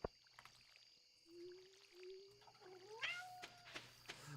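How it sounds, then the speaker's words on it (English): A cat meows nearby, a long rising, wavering call that climbs in pitch near the end, faint and alone over a quiet room. "Now I have a cat distracting me."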